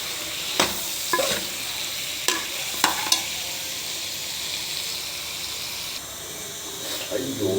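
Chicken with tender tamarind leaves frying in oil gives a steady, bright sizzle, broken by several sharp clinks of a spoon stirring against the pan, while a person talks over the cooking.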